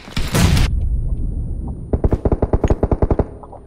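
Gunfire in a video game: a loud burst of gunfire at the start, then a rapid string of about a dozen evenly spaced automatic shots, close and sharp, with no voices.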